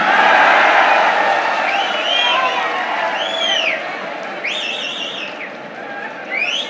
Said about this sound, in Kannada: ಹೊಡಿಲಿ ಚಪ್ಪಾಳೆ.